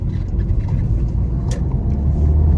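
VW Golf 7 GTI driving, a steady close low engine and road rumble filling the cabin throughout, with a faint brief tick partway through and no voices.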